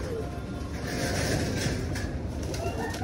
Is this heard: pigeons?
yes